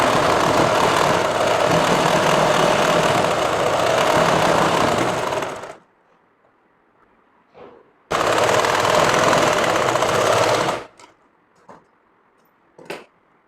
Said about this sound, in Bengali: ঘুরিয়ে এরকম ডবল সেলাই দিয়ে দেবেন